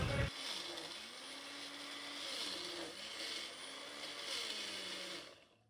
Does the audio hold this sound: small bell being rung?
no